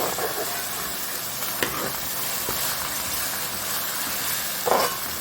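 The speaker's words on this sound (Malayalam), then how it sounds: "പച്ചമുളകും വെളുത്തുള്ളിയും ചതച്ച് വെച്ചത് അത് ആഡ് ചെയ്തിട്ട് ഒന്ന് ഫ്രൈ ആക്കി എടുക്കുക." Crushed green chilli and garlic fry in hot oil with onions for a sausage masala, a steady close sizzle with occasional stirring scrapes and a brief louder stir near the end.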